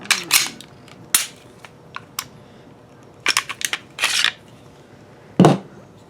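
Sharp metallic clicks and snaps come from a Glock 17 Gen2 pistol being taken apart, a handful of separate close clicks and clacks spread out across quiet pauses.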